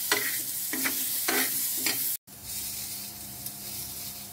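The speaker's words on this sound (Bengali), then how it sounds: "চিকেনের জন্য আলুটা আমি ভেজে নিচ্ছি, অল্প একটু লবণ, সামান্য হলুদ আর একটু তেল" Potato pieces fry in oil in a pan for chicken curry, a steady close sizzle with a few bursts of stirring, then a brief dropout before the sizzling resumes.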